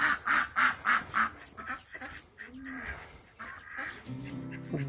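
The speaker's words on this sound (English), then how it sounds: "The ducks already found it." Ducks quacking near a new pigeon coop, a rapid series of loud nasal calls at the start that thin into scattered quieter calls, close by with no talk.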